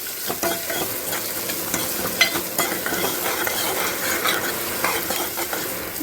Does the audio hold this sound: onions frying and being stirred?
yes